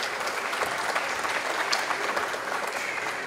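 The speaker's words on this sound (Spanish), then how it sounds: "Despedimos al viceministro con fuertes aplausos," A conference audience at an international circular economy forum gives the departing vice minister dense, continuous applause, loud and even throughout.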